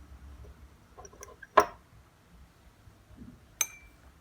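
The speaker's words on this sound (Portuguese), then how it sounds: "Vou pegar o sal aqui com a colherzinha." A small spoon scooping salt and tapping against a glass of water: two sharp, bright clinks about two seconds apart, the first louder, with faint softer taps before it in a quiet room.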